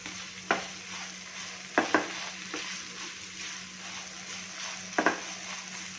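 Khoya melting in ghee with sugar in a pan for pedha, stirred with a slotted spoon, giving a low steady sizzle broken by a few sharp scrapes and taps against the pan, close and quiet, no talk.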